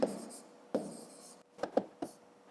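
A pen or pencil writes numbers on paper while working a column addition problem, making a few soft, separate scratching strokes with short pauses between them.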